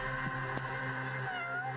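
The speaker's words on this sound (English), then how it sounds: "Oh look, a cat." Cat in the video game Judgment lets out a drawn-out meow over steady background game ambience and music, moderately close.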